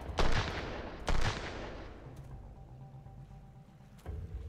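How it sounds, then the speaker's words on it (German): Two loud gunshot bursts from windows in the shooter game Sunkenland, about a second apart, each with a ringing tail, then a quieter third shot near the end over low ambient rumble. "die schießen ja aus allen Fenstern"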